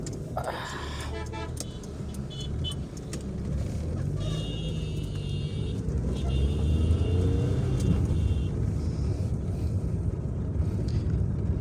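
A car drives through busy weekend traffic toward parking, giving a continuous low engine and road rumble with wind noise, growing slightly louder and joined by a brief horn toot.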